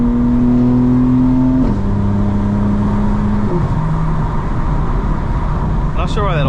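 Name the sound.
900hp 2025 BMW M4 engine and exhaust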